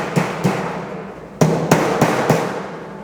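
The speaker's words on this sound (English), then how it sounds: "I like to line up the ends and then do a couple with a hammer." Hand hammer strikes on the ends of a sheet metal seam, six or so sharp metallic blows spaced irregularly, close and loud with quiet gaps between them.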